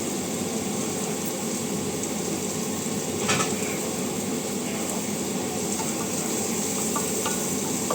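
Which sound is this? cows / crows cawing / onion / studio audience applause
onion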